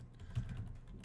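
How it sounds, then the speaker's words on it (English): Soft keyboard typing, a steady run of quiet clicks heard up close with no voice over it. "Now when I'm typing, see I'm typing right there."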